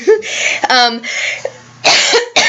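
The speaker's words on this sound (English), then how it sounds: "if you hear me hacking and coughing" A few harsh coughs and throat-clearing bursts break up a stretch of close, hoarse talking.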